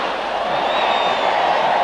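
Football stadium crowd at a Paraguay versus Colombia qualifier for Italia 1990, a dense steady roar of many distant voices with a faint whistle tone running through it, no distinct cheer peaks.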